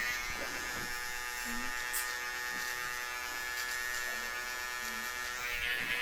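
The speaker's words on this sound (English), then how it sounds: "fine tune this a little bit with my trimmer" Beard trimmer buzzing steadily at close range during a beard and mustache cut, a continuous electric hum with a few brief tonal blips, no talking.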